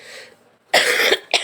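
A person coughs in two bursts, a long harsh cough followed by a short second one, close and loud after a quiet pause.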